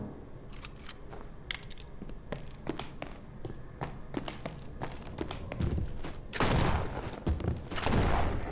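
Shotgun blasts and sharp impact bursts in the horror video game Withering Rooms, with rapid repeated cracks throughout and heavier, denser shots near the end, loud and close with no speech.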